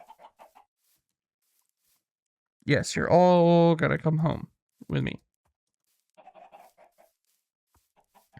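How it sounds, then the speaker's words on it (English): Chickens in the Minecraft video game give a short, loud burst of squawking clucks near the middle. Someone speaks quietly before and after it. "Oh, a lot of chickens"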